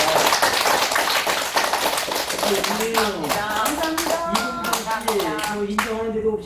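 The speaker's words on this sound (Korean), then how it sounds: "우리의 뜨거운 박수." A church gathering's audience claps in sharp, close, rapid strokes throughout, while people talk over the clapping.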